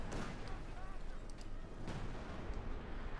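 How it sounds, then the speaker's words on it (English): Artillery barrage in Company of Heroes 2, a dense rumble of distant booms and blasts running through the whole short stretch, with a commentator's voice partly over it. "Artillery called down by the Major to block the victory point."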